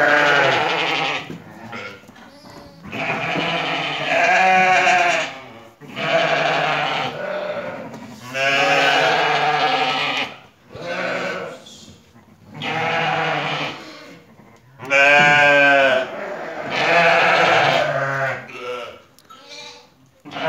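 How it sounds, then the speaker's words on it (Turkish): A newborn lamb and sheep bleating repeatedly, loud and close, in long wavering calls separated by short pauses. "Bu da yeni doğan kuzumuz."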